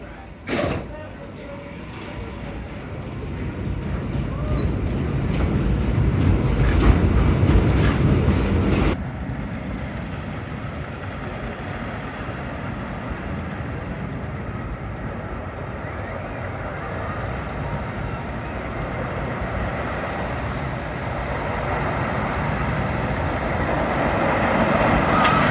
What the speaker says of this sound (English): now we'll be riding the wooden coaster right in front of me, Great American Screen Machine